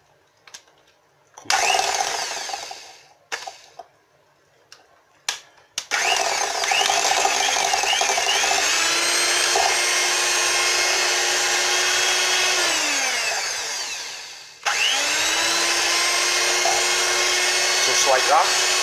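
An electric whisk on its lowest setting creams cookie dough for oat and raisin cookies with white and dark chocolate chips: a few brief bursts, then a long loud whirring run that winds down, pauses, and restarts.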